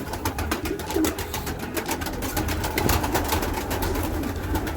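Pigeons in a home loft sit on their eggs and give soft, continuous cooing and low burbling close by, with faint rustling.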